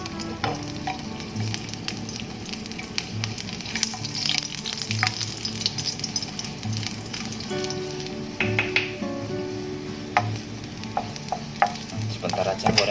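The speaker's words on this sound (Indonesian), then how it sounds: "sekarang kita mau goreng si bawang putih" Garlic frying in hot oil in a pan, a steady close sizzle throughout with occasional stirring clatter, no talking.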